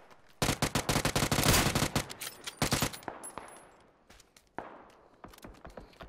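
Rapid bursts of automatic gunfire in a tactical shooter game, a loud sustained volley followed by scattered single shots and shorter bursts fading off, with no talk over it.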